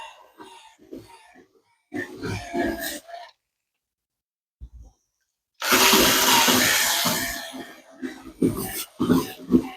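Water sloshed and poured over greenhouse glass while it is scrubbed with a soft-bristled brush, coming in a few bursts, with a long loud wash in the middle, and a person speaking between the bursts.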